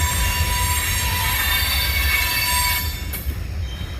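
A freight train rolls past at night, its wheels letting out a loud sustained high-pitched flange squeal over a low rumble of rolling cars, close by and constant, with no talking.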